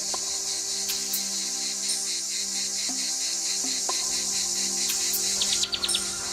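Cicadas buzz loudly and continuously from pine trees in a garden, a dense shrill drone with pulsing rhythm, joined near the end by a few quick bird chirps; no voices.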